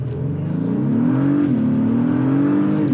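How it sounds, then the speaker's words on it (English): An Acura MDX Type S SUV launches from a standstill in Sport Plus mode using launch control, its engine note climbing steadily and loudly as it accelerates hard, with no talking. "Let's come to a complete stop and do a launch control."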